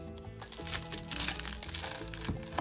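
Crisp crunching and crackling close up as a knife cuts through a crispy fried egg roll, a short burst of brittle texture with no talking.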